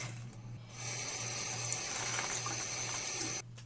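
Tap water runs in a steady, faint hiss while hair is wet before a toner is applied at a bathroom sink, then stops near the end.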